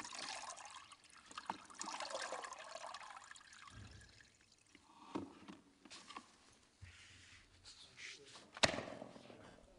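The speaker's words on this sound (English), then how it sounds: "Rinse the mop in the solution, agitating slightly to remove loose dirt and debris." An UltraSpeed mop is rinsed and agitated in a bucket of cleaning solution, with splashing, trickling and sloshing water at close range that rises and falls in bursts, along with a few knocks.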